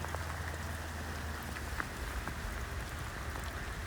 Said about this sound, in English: It's still a rainy day in February.